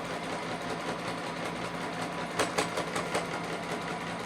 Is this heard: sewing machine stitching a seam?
yes